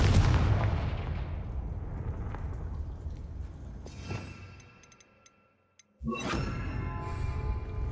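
A Confringo blast spell goes off in Hogwarts Legacy with a loud explosive burst that rumbles and fades to near silence. A second sharp blast then erupts and sustains, with no talking.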